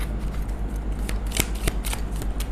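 A deck of tarot cards is shuffled by hand in quick, crisp riffling bursts, close and fairly loud over a low steady hum.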